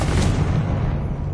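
A Confringo fire spell bursts in Hogwarts Legacy on PS5 as a loud, dense booming blast that rumbles continuously for over a second with no talking.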